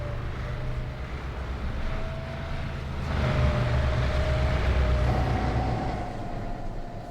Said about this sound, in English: I think the engine was louder than me.